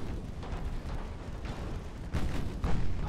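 Naval guns firing in the warship game Ultimate Admiral: Dreadnoughts, a steady rumble of distant cannon booms with heavier blasts arriving in the final second.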